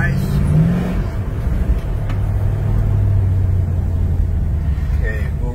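A 1967 Plymouth GTX V8 rumbles steadily from inside the cabin while driving, a loud continuous low engine drone with a slight rise in revs, and people talk over it.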